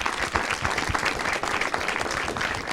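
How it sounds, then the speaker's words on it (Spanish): A studio audience on a Mexican TV talk show applauds a guest, a short burst of lively, close clapping with uneven, rapid hand claps lasting a few seconds. "el aplauso para Judith."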